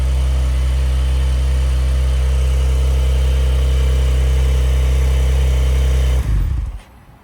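A Porsche 911 992 Targa 4 GTS engine runs with a loud, steady, deep drone close by, holding constant before cutting off abruptly near the end.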